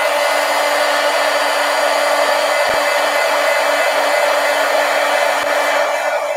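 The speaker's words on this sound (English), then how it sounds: "So let's dry it with the heat gun again." A heat gun blows steadily to dry paint, a loud, continuous whooshing roar with a faint hum that runs without a break from start to finish.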